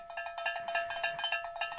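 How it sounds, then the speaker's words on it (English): A cowbell struck repeatedly in a quick, steady rhythm, bright metallic clanks about every tenth of a second, fairly faint and heard alone, ahead of a Buffalo Bills versus Baltimore Ravens football game. "We got the cowbell ready."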